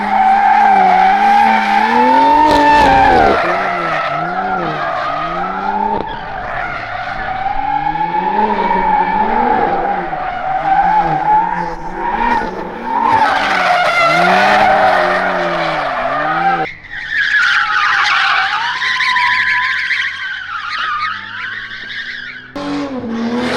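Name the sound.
BMW M3 car driving with tire skidding at TX2K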